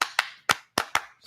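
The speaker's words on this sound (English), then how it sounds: "She gets a clap." Six sharp hand claps ring out close by, sounding in an uneven rhythm with short pauses between them and no talking.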